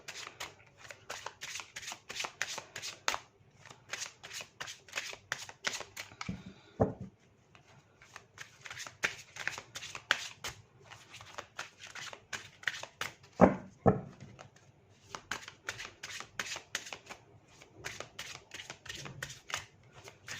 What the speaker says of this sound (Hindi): मैंने कर लिए है कार्ड शफल।